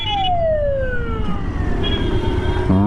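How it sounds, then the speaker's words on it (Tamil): An ambulance siren wails and falls in pitch as it passes on a road in Coimbatore, heard during a motorcycle ride over steady engine and road rumble, loud and close. "ஆம்புலன்ஸு டக்குன்னு வந்துருச்சு."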